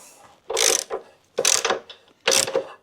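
Ratchet working on 14 millimeter bolts of a Honda VT750 motorcycle during fork service, three close, loud bursts of rapid clicking spaced about a second apart, with no talk.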